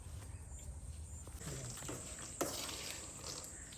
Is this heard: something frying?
yes